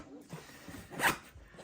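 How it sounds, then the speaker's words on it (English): A single quick pull of a YKK reverse-coil zipper opening on a sling bag, a short rasping burst that swells and fades within about half a second, close and fairly quiet. "These are YKK zippers, reverse coil."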